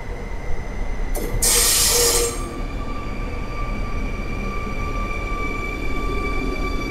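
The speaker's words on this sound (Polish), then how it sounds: "O, jedzie pociąg" A train pulls into a platform at Warszawa Zachodnia station, a steady rolling rumble with a faint tonal whine and a short, loud hiss burst early on. No one talks.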